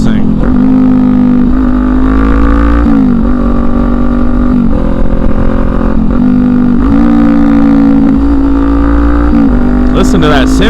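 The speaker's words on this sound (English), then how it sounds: "Oh my God, this Hindle exhaust, baby. This thing sounds incredible." Kawasaki Ninja 400 motorcycle fitted with a Hindle exhaust revving loudly and steadily, its engine note rising and falling in repeated sweeps with a strong low rumble throughout, close and dominant for the whole stretch.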